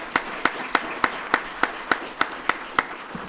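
Rhythmic clapping at a police swearing-in ceremony, about a dozen evenly spaced sharp claps in a steady beat, moderately near with a quiet room behind.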